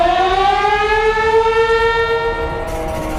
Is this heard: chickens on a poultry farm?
no